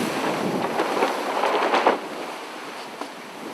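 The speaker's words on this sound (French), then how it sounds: "Le vent du nord s'engouffre dans ses voiles." A strong north wind roars across a sailboat at sea, buffeting the microphone with steady broadband rushing and gusts, with waves washing beneath and the rush easing slightly toward the end.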